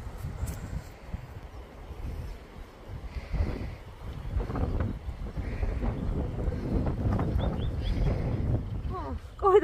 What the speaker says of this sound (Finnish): Kylmä on tuuli, ei auta muu.